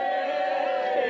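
A crowd cheering and whooping for a sailing race crew, a brief steady burst of massed voices at moderate distance.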